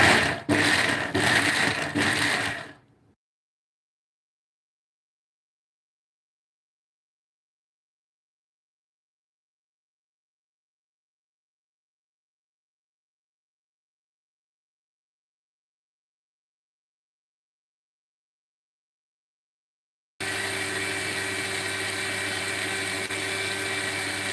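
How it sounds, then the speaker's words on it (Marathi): A kitchen mixer grinder whirs loudly and close for about three seconds and then cuts to silence. After a long quiet gap, a steadier, fainter mechanical drone returns. "एक मिनिट, मिक्सरचा आवाज येणार आहे."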